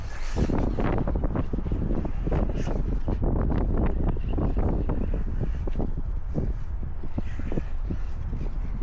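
Steady, heavy wind buffets the microphone outdoors by choppy water during a radio-controlled boat run, roaring continuously and loudly with gusting surges and no voices.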